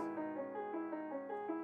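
A soft electronic keys sample, pitch-shifted on an MPC X pad, sustains a chord with notes gliding and stepping between pitches, quiet and steady with no voices.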